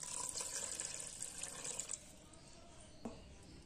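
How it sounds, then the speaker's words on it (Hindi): Water poured from a glass into minced mutton in a pressure cooker, a steady splashing pour for about two seconds, followed by a faint trickle and a small clink near the end. "इसमें हम डालेंगे एक ग्लास पानी,"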